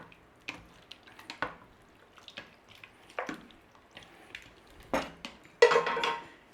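Cubed lamb, Guinness gravy, onion, garlic and carrot being stirred in an Instant Pot, with scattered wet scrapes, clinks and sloshing bursts of a spoon against the pot, fairly close and moderately loud, with no talking.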